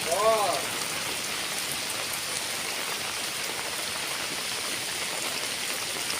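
Heavy rain pouring over a remote rural village in Java, a steady close hiss of drops on surfaces throughout, with a brief tonal sound at the very start.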